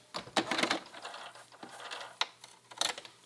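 A sewing machine running a zigzag stitch back and forth over two pieces of woven blouse fabric, with short bursts of rapid mechanical clatter separated by pauses, close and fairly quiet.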